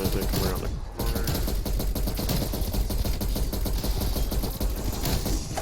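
Rapid automatic gunfire in Cold War Zombies, dense continuous bursts with mechanical clatter running the whole time, loud and close, broken by a brief gap near the start.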